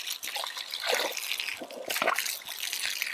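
Water sloshes and trickles in a farm pool as a young boar, a barrow, lies down in it on a hot day. The splashing is close and steady, with no talking.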